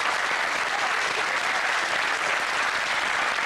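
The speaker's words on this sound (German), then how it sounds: "Da kommt der Applaus für Dimitri." Studio audience on a German TV show applauds a guest named Dimitri, a steady, dense wash of clapping that stays loud and even throughout with no break.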